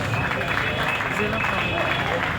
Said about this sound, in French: Applaudissons une fois de plus.